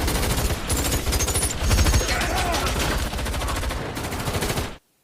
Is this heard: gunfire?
yes